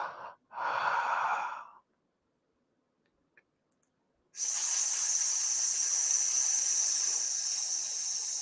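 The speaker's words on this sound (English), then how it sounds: "So again, breathing in through the nose." Slow breathing during a guided meditation: a loud, close airy breath, a pause of near silence, then a long steady inhale through the nose.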